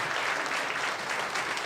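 Church congregation clapping at a Sunday service to welcome returning pastors, a dense, steady, fairly close round of applause filling the short moment with no talk.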